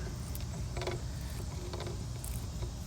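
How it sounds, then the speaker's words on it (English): A dripping hose bib's bonnet is tightened by hand, giving a few soft, scattered mechanical creaks and small metallic clicks over a steady low background rumble. "Now I'm going to start tightening the bonnet up."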